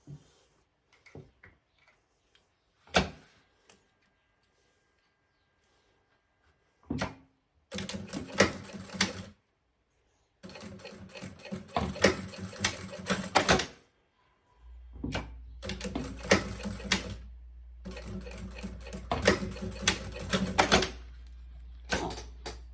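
Sewing machine running stitch point 4 along a diaper bag strap, two reinforcing seams, heard as several loud buzzing bursts of a few seconds each, separated by pauses and handling clicks, with a steady low hum under the later runs.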